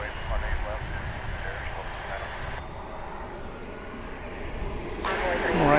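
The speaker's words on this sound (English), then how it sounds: "that Embraer 175 you just saw rolling there is on its way to" An Embraer 175 jet taxis at DFW International Airport, its engines a steady, moderately loud rumble and whine that swells toward the end, with a voice talking over it.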